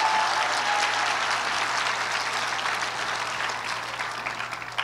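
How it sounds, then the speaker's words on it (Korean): A seated audience gathered for an evening church talk breaks into applause, a dense, even wash of clapping that holds steady for several seconds before easing slightly at the end. "그러니까 박수 한번 쳐줘"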